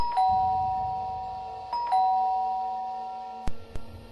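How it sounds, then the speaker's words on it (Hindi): A two-tone doorbell chimes twice in a row, bright and clear, followed by a couple of sharp knocks or clicks. "तभी अचानक डोरबेल बजी"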